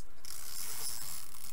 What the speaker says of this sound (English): this isn't a sticky strip, this is a tape runner